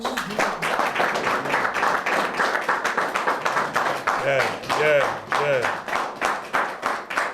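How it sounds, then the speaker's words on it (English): Rhythmic audience clapping at a city proclamation ceremony, rapid individual claps in a steady pulse with a few voices calling out over it. "I think y'all should clap for Mr. Doss."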